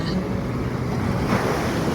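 Sea waves breaking on Marina beach in Chennai on a quiet morning, a steady close wash of surf mixed with wind buffeting, with no talking.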